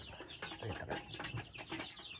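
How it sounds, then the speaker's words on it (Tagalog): Pet chickens cluck in repeated bursts close by, with occasional louder squawks over a busy, steady barnyard background. "Masisigla naman yung ating manok."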